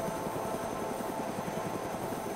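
Helicopter flying in the DayZ video game, a continuous loud rotor and engine drone with a steady rhythmic chop, unbroken from start to finish.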